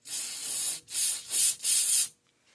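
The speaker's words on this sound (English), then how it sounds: "I'm just going to spray a little bit down in there" Aerosol can spraying down into a car engine's spark plug area on a very cold day: four sharp hissing bursts in quick succession, close and loud, then quiet.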